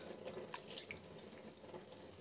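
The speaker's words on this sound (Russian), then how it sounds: "Сейчас мы вот так вот попромываем рис." Rice being rinsed under cool tap water in a kitchen sink, a steady running stream with soft splashing and sloshing of grains, close and fairly quiet with no talk.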